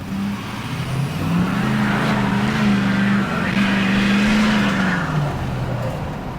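Dually and two-wheel-drive pickup trucks accelerate at full throttle side by side, a loud sustained engine roar with rising and falling pitch and faint tire noise, close and steady throughout with no talking.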